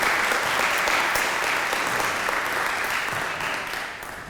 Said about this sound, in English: can we have a round of applause for Mimi?